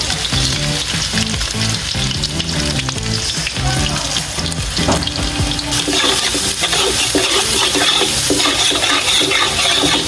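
Onions frying in hot mustard oil in a home kitchen, a loud, steady, dense sizzle that runs continuously from close up, with no voices.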